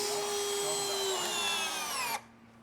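A power drill whines at high pitch driving fasteners into an entry door frame, one continuous run that slows slightly before stopping abruptly, leaving quiet room tone.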